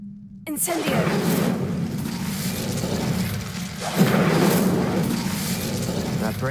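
An Incendio fire spell is cast in Hogwarts Legacy, igniting with a sudden whooshing burst into a sustained roaring, crackling flame that swells again midway and keeps burning loudly to the end.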